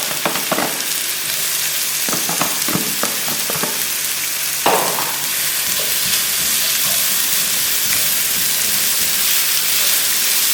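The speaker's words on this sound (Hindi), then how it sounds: "इसको हल्का सा फ्राई करेंगे, साथ साथ चिकन को भी देख लेंगे।" Chicken and capsicum sizzling in a pan as they fry for pasta, a continuous bright crackle with a few clanks of a spoon stirring near the start and a renewed burst of sizzle midway.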